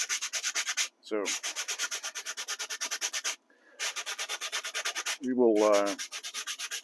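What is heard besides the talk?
sanding M1 helmet liner with 80 grit sandpaper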